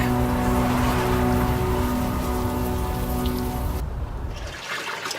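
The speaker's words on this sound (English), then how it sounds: "At least the rain is washing away most of the smell." Steady rain in the video game Unavowed, a dense, even hiss of falling drops with a faint low hum beneath, cutting off abruptly near the end.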